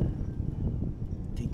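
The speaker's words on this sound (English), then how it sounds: "Apologize for the wind. It's really windy." Low, rumbling wind buffets the microphone outdoors, a steady roar with gusty fluctuations.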